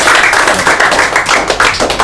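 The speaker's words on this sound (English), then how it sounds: "So clap for yourself." Students at a farewell function clapping for themselves, a dense, even burst of close applause that holds steady for a couple of seconds.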